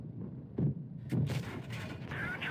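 Two heavy cannon blasts from the ISU-122S tank destroyer in World of Tanks Blitz boom out about half a second apart, each followed by a rumbling tail under game ambience.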